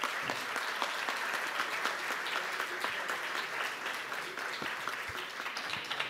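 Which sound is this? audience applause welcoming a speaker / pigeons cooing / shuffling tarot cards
audience applause welcoming a speaker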